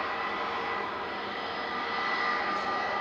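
Steady jet engine roar from an airliner departing Manchester Airport for Corfu, a moderately loud, unbroken drone with no voices.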